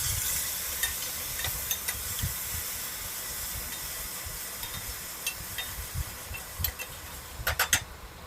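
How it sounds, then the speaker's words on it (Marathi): Spice paste frying in hot oil with crackled mustard seeds and cumin for a Maharashtrian green-chilli rajma curry, a steady close sizzle and hiss with scattered sharp pops and occasional stirring scrapes. "आपण जी पेस्ट बनवून घेतली होती ती पेस्ट अगोदर घालणार आहोत म्हणजे व्यवस्थित तळल्या जाईल"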